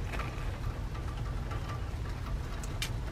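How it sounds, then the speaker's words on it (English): Light rain falling outdoors on a farm, a steady dense patter with a low rumble underneath and a few brighter drips standing out, continuous and fairly close. "It's a light rain"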